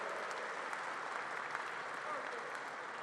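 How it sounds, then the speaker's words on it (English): Crowd at a political rally applauding, a dense, continuous roar of clapping and crowd noise heard from a distance, even in level throughout. "So let's give her a round of applause."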